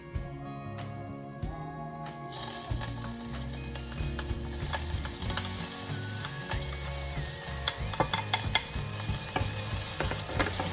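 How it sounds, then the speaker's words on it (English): A faint rattle, then hot oil bursts into a steady loud sizzle that keeps crackling and popping as ginger sautés in a pan. "let's saute the ginger first."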